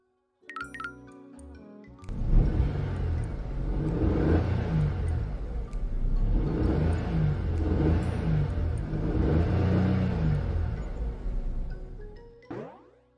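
A car engine revving and straining while the vehicle fails to move forward, rising and falling in several loud surges over a low rumble, then cutting off near the end.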